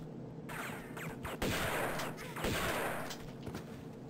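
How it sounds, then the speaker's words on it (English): Repeated shotgun blasts in the Tomb Raider video game, loud bursts with heavy crashing decay over a continuous noisy game background. "Time to put some of these shotguns to use."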